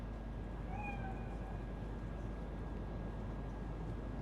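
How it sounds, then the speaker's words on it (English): A cat meowing in the video game Cyberpunk 2077, a single short rising meow over a steady low background hum, with no talk. "It's just a cat."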